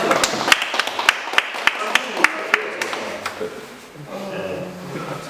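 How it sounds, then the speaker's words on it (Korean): Applause from an audience at a school chapel service, a scattered burst of individual claps that thins out and fades after a few seconds, with a murmur of voices underneath. "우리 그 인정하는 의미에서 박수 한번 쳐주세요."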